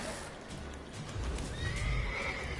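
A horse in The Witcher 3 video game whinnies in a rising, drawn-out call over soft hoofbeats and background rustle, moderately loud and close.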